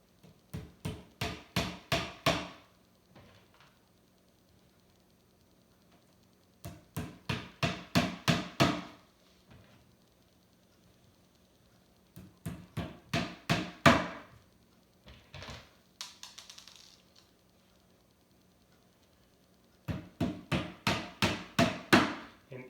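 A small picture-hanging hammer drives little nails into a desk being assembled, in four bursts of about seven quick, loud taps each, separated by quiet pauses.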